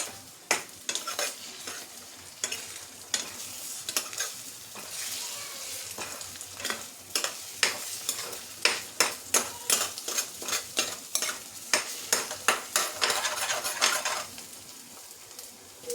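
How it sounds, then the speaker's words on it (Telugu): A fried egg sizzles steadily in a hot pan while a utensil repeatedly cuts and stirs it into large pieces, sharp clinks and scrapes against the pan punctuating the continuous frying hiss. "దీన్ని మనం ఇలా ఇప్పుడు పెద్ద పెద్ద ముక్కలుగా కట్ చేసుకుందాం"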